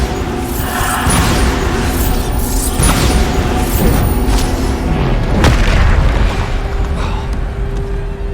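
Bombarda spell explosions in the video game Hogwarts Legacy, with heavy booming blasts and crashing impacts over dense, continuous combat noise, one especially sharp burst midway.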